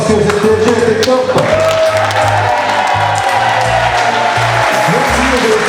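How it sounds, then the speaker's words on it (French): Loud, sustained applause from a standing crowd at a French event, dense clapping mixed with whoops and cheers, close and continuous, with a low rhythmic thumping underneath. "je voudrais que tout le monde se lève et puis fasse un tonnerre d'applaudissements pour le GWCA"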